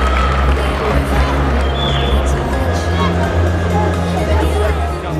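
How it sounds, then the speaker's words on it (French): A crowd at a boxing match roars and cheers at the end of a round, a dense, loud, continuous wall of voices and noise with scattered shouts and low rumble throughout, mixed with talk. "on peut les applaudir"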